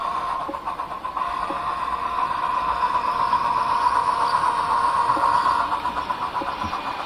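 An Athearn FEF-3 HO scale model steam locomotive running downhill on a layout, its sound-decoder chuffs soft and steady beneath a continuous mechanical hum and hiss, close and fairly even throughout.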